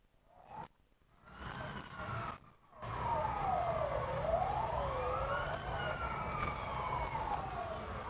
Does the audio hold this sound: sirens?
yes